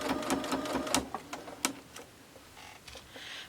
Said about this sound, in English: We're going to take this to the sewing machine